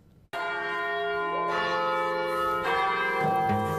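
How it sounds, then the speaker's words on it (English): Church bells toll at Beaumont Tower on the Michigan State University campus, a loud sustained peal of layered ringing tones with fresh strikes swelling in over the first few seconds, heard alone with no voices. "students on Michigan State University's campus have marked their day by the toll of the bells at Beaumont Tower"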